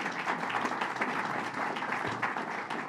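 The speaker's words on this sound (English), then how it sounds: "Let's give them a round of applause." Audience applause at a public announcement with the governor at Albany International Airport: dense, steady clapping from a crowd, moderately quiet and sustained for about three seconds, with a faint voice or two underneath.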